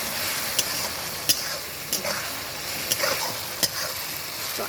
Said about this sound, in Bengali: তো এবারে পেঁয়াজের সাথে এগুলোকে খুব ভালো করে আবারও একবার ভেজে নিতে হবে আমাদের